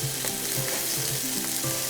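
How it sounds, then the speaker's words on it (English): Pounded chicken paillard sizzles in a hot pan with clarified butter, a steady close frying hiss with faint crackles and the occasional soft clink of stirring, no talk. "So now we're going to go ahead and put our pounded chicken Paillard in. Here at nice sizzle, so you know your pan's nice and hot."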